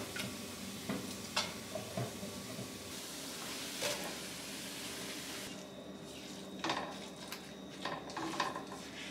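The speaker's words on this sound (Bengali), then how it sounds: "তেলেতে জিরে ফোড়ন দিয়ে পেঁয়াজটা হালকা ভাজা ভাজা হতে দিয়েছি" Onion frying with cumin in oil makes a soft, steady sizzle, punctuated by clinks and scrapes of utensils against pots nearby as vegetables are mashed; no talking.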